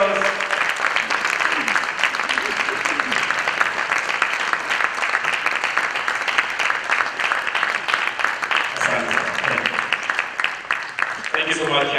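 Sustained audience applause at a graduate sales bootcamp, a large crowd clapping steadily and loudly for a long stretch, with a few voices rising briefly near the end.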